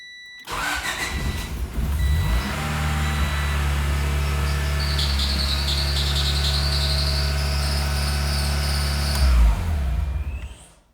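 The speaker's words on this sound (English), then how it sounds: "Sounds like we got some tight belts." A car with a Honda H22 engine cranks and starts, then runs with a loud, steady high-pitched squeal from tight belts over the idle before shutting off.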